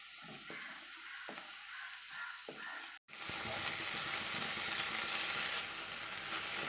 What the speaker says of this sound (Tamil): இன்னும் கொஞ்சம் நேரம் வதங்க போ வதக்கலாம் வதங்கும் போது இன்னும் நம்ம கீரை வந்து வதங்கி சுருண்டு வரும்